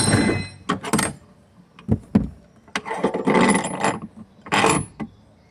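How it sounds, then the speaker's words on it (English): A spare tire drops from beneath a Perodua Alza onto a tire placed underneath, giving a few heavy thunks with metallic clanks and rattles of the winch mechanism, close and fairly loud, with no talk. "the spare tire will fall down."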